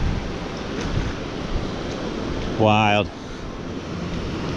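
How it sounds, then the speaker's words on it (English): Ocean waves surge against a shore on a windy coast, a continuous broad wash with wind buffeting the microphone and a short spoken exclamation partway through. "So the waves are out now, but let's see what happens."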